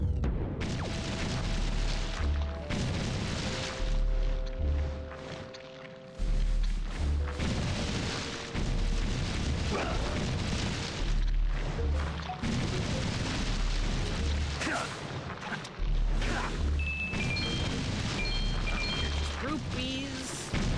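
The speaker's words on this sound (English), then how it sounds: "when you have like a bajillion of those guys on you and you like do the spin attack" Enemies bursting apart after a spin attack in Zelda: Wind Waker, a string of booming game explosions and hits over dense music and effects, steady and loud throughout.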